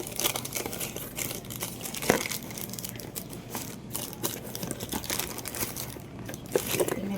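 Plastic packaging for a Shih Tzu's new clothes crinkles and rustles steadily at close range as it is opened, with a sharper tear or crunch partway through and no talking.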